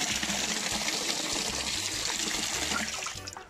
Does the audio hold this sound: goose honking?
no